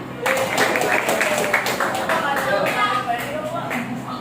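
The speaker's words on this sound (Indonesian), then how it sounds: "Tepuk satu, tepuk dua, tepuk tiga, tepuk tangan." A group of people claps hands together during a coaching session, producing dense clapping that starts abruptly and continues steadily with some voices mixed in.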